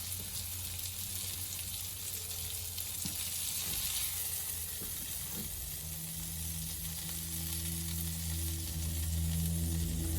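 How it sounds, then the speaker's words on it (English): Steak sizzles steadily in Tupperware Chef Series II cookware, a dense continuous hiss and crackle under a low hum, close and moderately quiet, building slightly toward the end with no talking. "steak and eggs, made in the Tupperware cookware"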